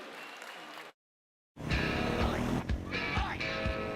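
Audience applause at a live broadcast event: a thick, steady wash of clapping begins after a brief silence and carries on loud and close for the rest of the clip, with some crowd noise mixed in.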